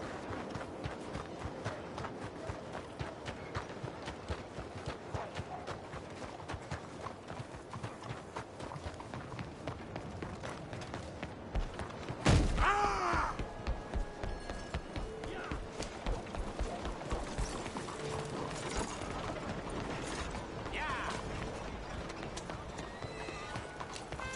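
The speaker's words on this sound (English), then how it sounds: "Where's that horse got to?" Horse hooves clip-clopping in the Red Dead Redemption 2 video game, a steady, rhythmic walking gait close by that continues throughout, broken midway by a brief sharp burst, with a faint voice underneath.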